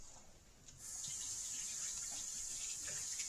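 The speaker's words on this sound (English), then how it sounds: "let me wash my hands" Tap water starts running under a kitchen faucet and keeps flowing steadily as hands are washed, a soft continuous hiss that rises after a brief quiet start.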